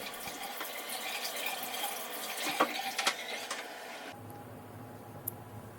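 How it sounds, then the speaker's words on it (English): Water from a Rinse-a-roo attachment on a shower head sprays and splashes against the shower surfaces, a steady rinsing hiss with a few sharp knocks, then a change to a quieter, thinner flow. "I used my rinse-a-roo, which you just attach it to your shower head and then you can rinse everything down super quick and easy"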